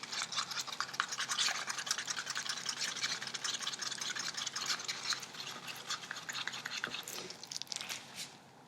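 Resin mixture being stirred briskly in a cup for silver and white coasters, a continuous close scraping and swishing with a fast, steady rhythm that tapers off at the end.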